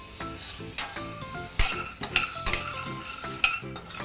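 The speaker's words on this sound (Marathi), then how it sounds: "आता सेम पद्धतीने आपण हा जो बदाम आहे तोही भाजून घेणार आहोत" Almonds being dry-roasted in a pan for dry fruit ladoo, tossed and stirred with a metal spoon, giving rattling scrapes and sharp clinks against the pan over a faint background sizzle, close up with no speech.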